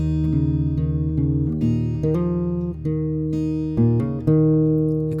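Fingerstyle acoustic guitar picks the opening intro riff of Hozier's NFWMB, a steady flow of plucked notes over ringing bass strings, close and clear with no talking.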